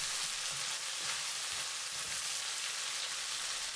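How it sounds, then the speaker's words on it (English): An onion sautéing in a pan while being stirred, a steady broadband sizzle that stays loud and even throughout with no talking. "Put the onion. Stir for 20 seconds."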